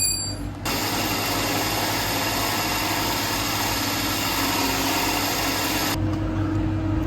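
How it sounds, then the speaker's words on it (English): An electrician's core drill runs steadily while cutting holes for cable tray, giving a loud, continuous motor drone with a rough, grinding texture that starts abruptly and cuts off near the end, with no talk. "So we're now core drilling"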